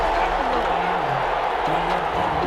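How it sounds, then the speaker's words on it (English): Home crowd booing in the Madden NFL 21 football game between the Steelers and Saints, a steady, dense stadium roar of disapproval under faint commentary-like voices throughout. "Some boos coming down right now from this home crowd after that call."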